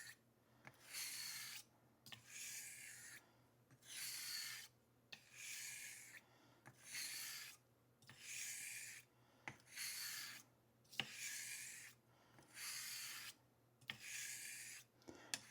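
Straight razor being honed with half strokes on a 1000 grit stone, about a dozen evenly spaced rasping scrapes with short pauses between, quiet and close.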